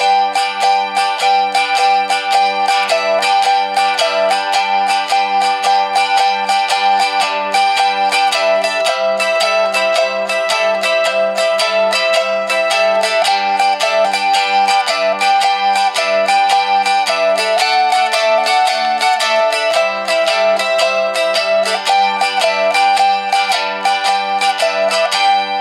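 A mandolin strums a 12 bar blues in a steady, bright rhythm, chords changing through the progression, loud and close and alone without talk.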